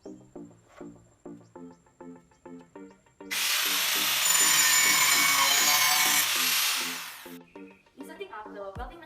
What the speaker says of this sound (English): I will now perform the basic cutting of 45-degree angle in the edge of the angle bar